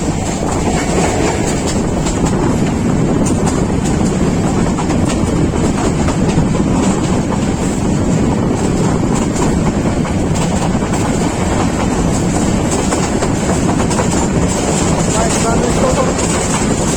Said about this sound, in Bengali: লোকোমোটিভ, এটা লোকোমোটিভ কত 3081